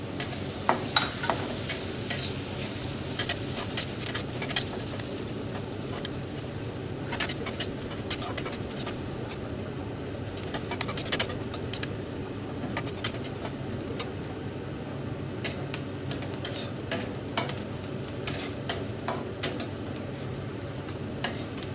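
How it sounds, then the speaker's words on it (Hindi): Chopped onion fries in a pan for pav bhaji, a soft, continuous sizzle with scattered crackles and occasional stirring taps, close and fairly quiet, with no talking. "2 से 3 मिनट तक भूनें, जब तक कि प्याज नरम होकर हल्के सुनहरे न हो जाएं"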